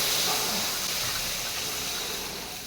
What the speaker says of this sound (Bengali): এবার ডালটা হালকা নাড়াচাড়া দিয়েই আমি পরিমাণ মতো এতে জল দিয়ে দেবো